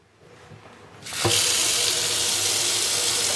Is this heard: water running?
yes